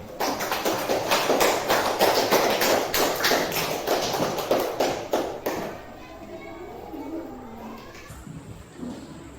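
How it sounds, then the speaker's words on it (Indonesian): Students in a classroom clap together after group presentations, a busy burst of many small hands for about five seconds that then fades into quieter room noise and voices. "Oke, tepuk tangan untuk kita semua."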